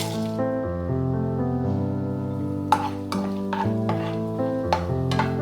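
Tempering spices fry in three spoons of hot oil in a kadai for a drumstick curry, a soft crackling sizzle with occasional stirring scrapes heard beneath steady melodic background music.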